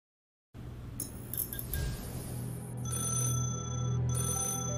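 An old telephone rings with a bright, continuous bell tone, close and fairly soft, carrying steadily after a moment of silence with no voices present.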